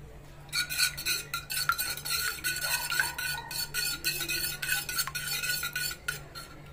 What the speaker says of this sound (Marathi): आपण आता अंडा फेटून घेऊया।